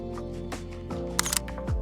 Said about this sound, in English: trigger the shutter with the remote